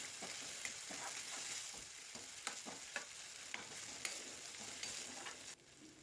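Finely chopped onions are stirred into a masala paste in a pan for dry chicken, a quiet, even sizzle with regular light scrapes and taps of the spoon, soft and close, no speech.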